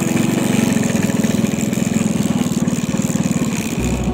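A motorbike engine idles outdoors near Mount Semeru with a fast, even putter, loud and close, and the tone shifts abruptly just before the end.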